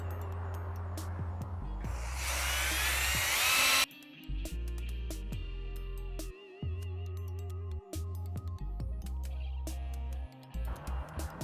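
A power tool whirs loudly for about two seconds while polishing a CB Performance reverse manifold part for a 1956 Volkswagen Bug ragtop, followed by intermittent short tool bursts and clattering handling noises.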